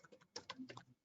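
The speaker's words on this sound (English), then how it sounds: "sorry, I was typing then." A computer keyboard clatters in a quick burst of soft, close keystrokes, a dozen or so taps in about a second, quiet and with no talk.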